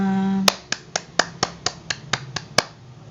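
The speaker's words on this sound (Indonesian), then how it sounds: "Tepuk tangan untuk kita semua" A small primary class claps together at the end of a lesson, about ten sharp, separate hand claps in a steady rhythm, close and clear, after a brief tonal sound at the start.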